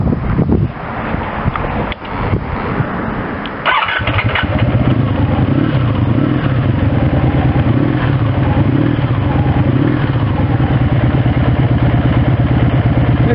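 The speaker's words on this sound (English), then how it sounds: "I'll start it up here for you a second." Close by, a 1984 Honda V65 Sabre motorcycle engine cranks and fires up, then settles into a steady, rumbling idle around 750–800 rpm with some wind noise on the microphone.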